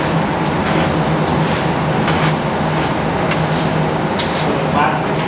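Airbrush spraying paint onto plastic action figure parts in a toy factory, a steady loud hiss running continuously with short repeated bursts and pulses, heard alone without talk.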